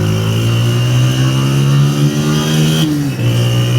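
Honda 125 motorcycle engine revving up close, a loud steady mid-pitched drone that climbs in pitch, dips briefly, then picks back up.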